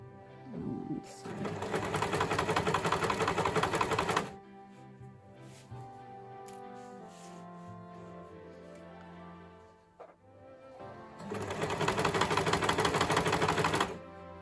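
A sewing machine stitches bias binding onto a sleeveless top in two fast, steady whirring runs separated by a quieter pause, with a person talking in between.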